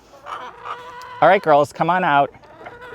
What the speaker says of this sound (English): I think it's the perfect size for 10 little chickens.